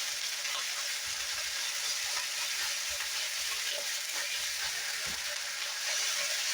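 Chorizo sizzling loudly in a pan after the excess oil is drained, a steady bright hiss of frying with soft scraping and stirring as the sausage is broken up, no talking.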